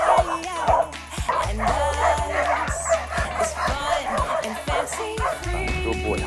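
A Weimaraner and a Poodle bark and yip in short, close bursts with whimpers between them, while someone talks to them warmly in between the barks.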